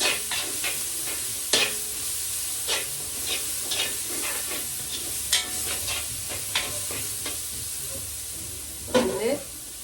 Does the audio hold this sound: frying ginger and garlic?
yes